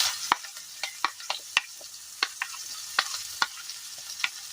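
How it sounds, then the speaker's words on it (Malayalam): Large onions frying in oil for a Kerala brinjal curry: a soft steady sizzle broken by a dozen sharp, irregular scraping clicks of stirring, close and with no talk. "ആ എണ്ണയിലേക്ക് തന്നെ നമ്മൾ വലിയ ഉള്ളി ഇട്ട് കൊടുക്കുകയാണ്."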